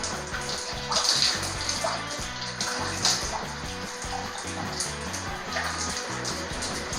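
Tap water runs steadily during a test of an electric water heater that delivers only cold water, a continuous splashing wash with a few brighter spray bursts, fairly close, with no talk.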